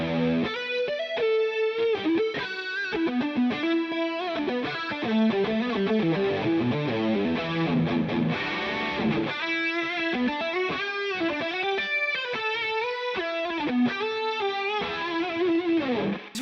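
Electric guitar lead with chorus and some grit, fast melodic runs and bends played loud and continuously, no talking.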